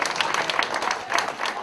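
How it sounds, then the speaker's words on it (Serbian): Audience applause at a mayor's reception for carnival participants in Leskovac, a steady burst of clapping from a crowd filling the short stretch with no break. "Molim vas jedan aplauz to ime."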